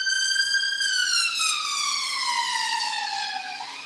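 An ambulance siren sounds loud and close, its tone sliding steadily downward as the vehicle passes by, heard alone without talk.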